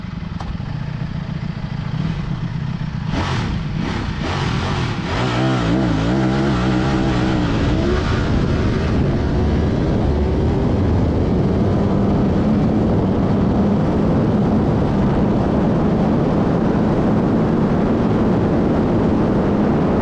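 A 2025 Ducati Panigale V4S superbike on a test run, its engine roaring loud and close with a rising rev early on, then holding a sustained high-speed drone for the rest of the stretch.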